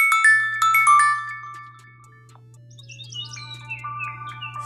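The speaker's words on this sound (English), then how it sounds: "I like those bird sounds. These ringtones are really cool." A DOOGEE Note 58 phone plays a ringtone of chirping bird calls over a steady low tone, bright close tweets at first, then a brief lull before a faster, busier run of birdsong.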